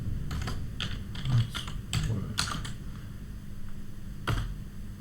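Keys on a computer keyboard are tapped in irregular short bursts as a password is entered on a Windows machine, with crisp, close clicks and brief pauses between them.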